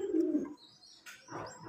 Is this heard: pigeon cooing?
yes